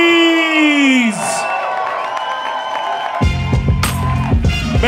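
A crowd at a poetry and rap event breaks into cheering and whoops partway through, following a sustained vocal tone, with loud bursts of shouting near the end.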